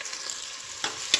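Onion fries in a pan for tempering, with a steady sizzle and two brief stirring scrapes near the end.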